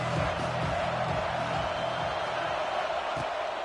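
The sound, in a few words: stadium crowd cheering for the defense on third down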